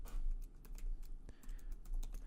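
Quick, light keystrokes on a computer keyboard, a close run of crisp clicks and taps with a few heavier presses, with no talking over them.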